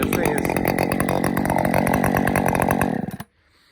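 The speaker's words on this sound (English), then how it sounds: "yeah, it's a loud saw. It's a very loud saw, but it sounds freaking phenomenal." A Husqvarna 550xp or 562xp Mark 2 chainsaw with a 20-inch bar revs loud and close, a dense steady roar for about three seconds before it cuts off abruptly into near silence.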